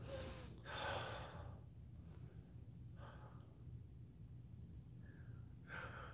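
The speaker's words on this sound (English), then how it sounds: "So she was breathing hard." Goldendoodle dog breathing hard, heavy rhythmic huffs and snorts close by, loud at first then settling into steadier panting over a low rumbling background.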